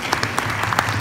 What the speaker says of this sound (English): can a round of applause, please, first for coming up